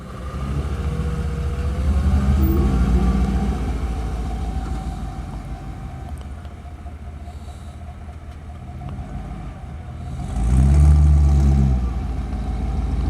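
A 1957 Chevrolet Bel Air convertible with an LS1 engine runs at low to moderate revs, fading slightly as the car moves, then swelling louder near the end as it comes back around close by.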